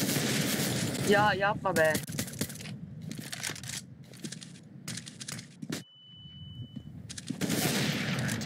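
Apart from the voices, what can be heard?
pistol gunshots in video game Euro Truck Simulator 2 multiplayer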